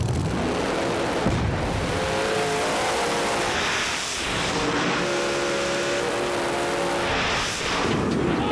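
Drag race cars in a no prep race at a Street Outlaws No Prep Kings event in Vanderbilt roar loudly and continuously for the full stretch, engines sustaining a dense, powerful drone without speech.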